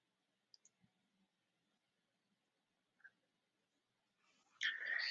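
A computer mouse gives a few soft, sparse clicks in a quiet room, followed by a brief burst of louder rustling noise at the end.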